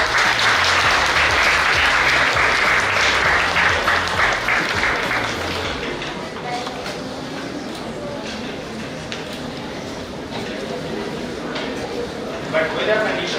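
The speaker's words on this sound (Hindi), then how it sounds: "जोरदार तालियां एक बार से जोरदार है" Loud, dense applause from an audience at an academy batch farewell ceremony fills the first six seconds, then fades into scattered clapping under a speaking voice.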